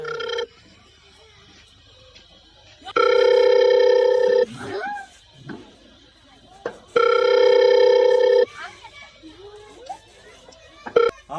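Phone ringtone with a steady electronic tone and harmonic bursts, sounding in two long rings about four seconds apart, with sparse talk and rustling between them.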